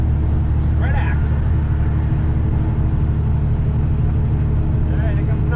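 Heavy trucks, a Peterbilt and a Kenworth, rumble past on a highway, a loud steady engine and road drone heard from close by, with a faint chime and talk mixed in.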